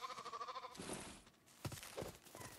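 Sheep bleating in Lego Fortnite, several short, faint game-sound bleats in a row, some nasal and wavering, with soft clicks between calls and no one talking.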